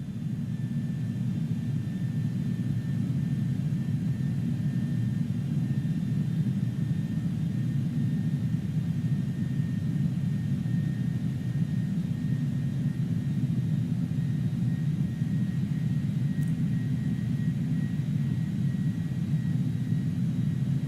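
Airbus A310 landing in Microsoft Flight Simulator 2020, a steady, even jet engine rumble and airflow roar that holds at constant loudness throughout, with no voices.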